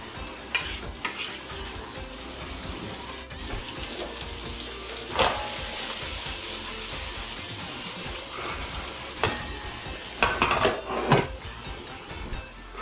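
Food fries in a pan with a steady close sizzle while a Spaghetti Napoli with chorizo meatballs is cooked, broken by occasional stirring scrapes and light clinks of utensils against the pan.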